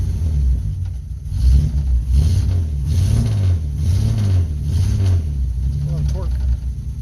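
Car engine misfiring and running on only five cylinders, idling with an uneven, lumpy rumble that pulses in loud surges; someone talks over it.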